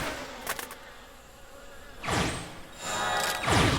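Midge swarm attack in Final Fantasy 14, a short buzzing insect swarm sound effect repeated a few times, fairly close and moderately loud, with quieter gaps between bursts and no talking.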